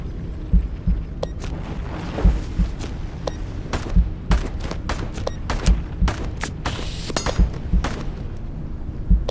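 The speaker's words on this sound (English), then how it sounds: "Now they're shooting at me." Enemy gunfire in the video game Into the Radius 2, a steady run of sharp shots and thumps over a dense rumbling background, fairly loud, with no speech.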